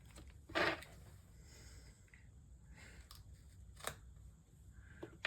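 Scissors snipping through packaging while unboxing an online haul of K-pop merchandise, a few quiet crisp clicks and cuts spaced irregularly, the sharpest snip near the start, with faint rustling between.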